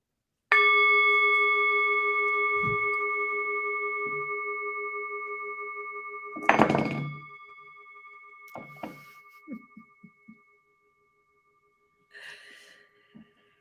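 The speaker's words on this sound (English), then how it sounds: "the ringing of the bowl" A singing bowl is struck once and rings with a long, steady sustained tone that slowly fades, followed by a few soft knocks and faint clatters, in a quiet room.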